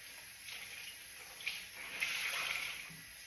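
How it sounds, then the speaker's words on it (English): Cold tap water runs steadily to rinse a tea-dyed handmade vest, a faint, even hiss of flowing water with slight splashing, no voices. "I'm going to rinse"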